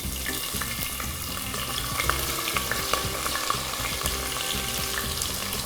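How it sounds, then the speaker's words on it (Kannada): Chopped onions fry in a hot pan for mushroom biryani, giving a steady, loud, dense sizzle with stirring that runs unbroken throughout, no voices. "ಈಗ ಇದಕ್ಕೆ ನಾವು ಆನಿಯನ್ ಹಾಕಿ ಸೇರಿಸೋಣ."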